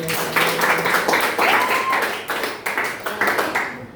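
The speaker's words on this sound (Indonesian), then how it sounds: "Tepuk tangan untuk kita semua" A classroom of students claps together in a mathematics lesson, a dense patter of many hands with a few voices over it, steady for several seconds before thinning out.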